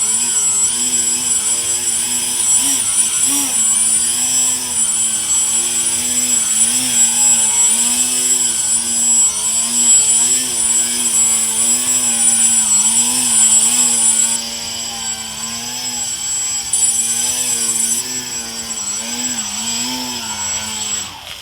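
Small RC model airplane electric propeller motor, held by hand on the ground, spinning up and being throttled gently, a steady buzzing whine with rising and falling pitch for about twenty seconds, loud and close, no talking.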